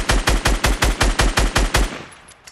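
Video game gunfire comes as a rapid burst of about ten evenly spaced, loud shots, each with a deep thump. The tail then fades over the last half second, with no talk.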